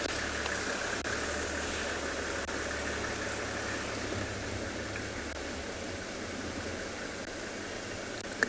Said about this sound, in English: Looks like we may have another vehicle joining us